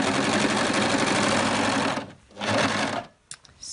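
An electric sewing machine stitches a raglan sleeve seam in one fast, steady run for about two seconds, pauses, gives a short second burst, then stops with faint handling clicks.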